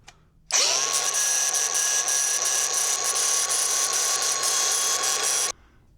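A power tool grinds down the head of a screw for a DIY clamp mount, a loud continuous high whine with a squealing edge lasting about five seconds, starting and stopping abruptly with quiet before and after.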